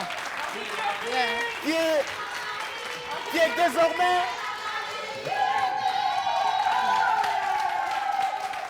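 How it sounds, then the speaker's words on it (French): Studio audience applause on a French-language television entertainment show, moderately loud clapping running under a presenter's voice and a musical tone. "Merci de faire des applaudissements pour Francky Gold,"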